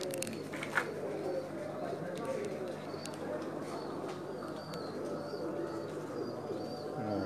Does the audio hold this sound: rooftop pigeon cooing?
yes